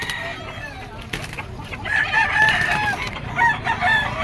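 A yellow-legged stag rooster crows at an outdoor pet market, one strained, drawn-out call rising in the middle and trailing off, close and loud over the busy background murmur.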